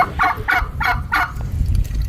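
Four quick gobbling bursts from a turkey hen at an even pace, fairly close, over a low rumbling background, then fading into ambient noise.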